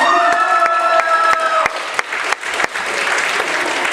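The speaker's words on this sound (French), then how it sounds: "On applaudit" Applause breaks out from the audience at a cosplay awards ceremony, starting over a lingering tonal sound and swelling into loud, dense clapping with a few sharp claps.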